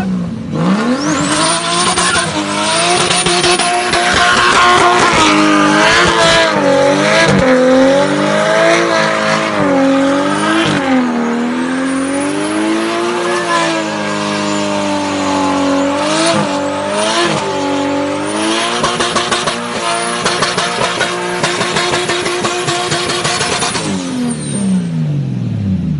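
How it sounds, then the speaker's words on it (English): A car engine revs loudly and repeatedly through a burnout, rising and falling in pitch with squealing tires, close and continuous with no talk. "I think that's how you do a burnout."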